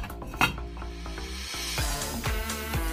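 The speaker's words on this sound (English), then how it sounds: "Add the vegetable broth, bring to a boil, then lower the heat and cover. Simmer for 20 minutes" Millet in vegetable broth bubbles and sizzles softly in a covered pot, with a steady close crackle and occasional faint clinks of the pot, no voices.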